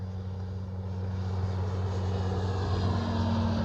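An E-flite Carbon Z T-28 radio-controlled plane comes in to land, its electric motor and propeller making a steady droning hum that grows slightly louder over a few seconds.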